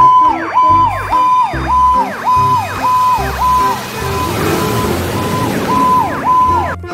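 A toy fire truck siren wails in a rapid repeating whoop with a low electronic buzz, loud and close, briefly giving way to a steadier tone.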